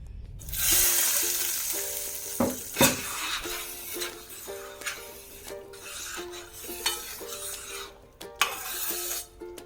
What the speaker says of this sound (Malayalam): അതിലേക്ക് നമുക്ക് പത്ത് കാഷ്യനട്ട് വറുത്തിടാം